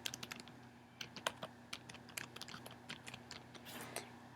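Quiet typing on a computer keyboard at a desk, irregular rapid key taps for a few seconds over a faint steady hum, with no speech.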